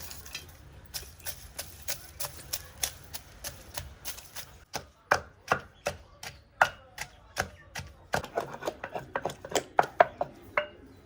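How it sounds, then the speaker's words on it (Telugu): Ginger and garlic crushed together into a coarse paste, struck in rapid rhythmic blows, sharp and close, the pounding speeding up and growing denser toward the end, with a little quiet speech in the background. "అల్లం వెల్లుల్లి రెండు కలిపి పేస్ట్ చేసుకుంటే"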